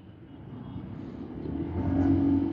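A small scooter engine hums steadily, its pitch and volume rising toward the end as it revs up close by.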